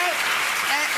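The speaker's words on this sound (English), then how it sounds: "a round of applause for Dina" A studio audience on a television talk show applauds a dancer, dense steady clapping filling the whole moment, with a voice faintly over it.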